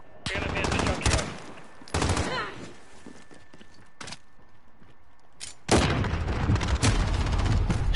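Heavy gunfire from a first-person shooter video game, with players camping with shotguns: loud bursts of rapid shots in clusters, pauses in between, then a long sustained volley at the end.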